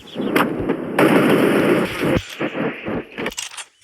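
Gunfire rings out in a Free Fire battle royale match: a dense, loud run of rapid shots, then a string of sharper, separate bursts.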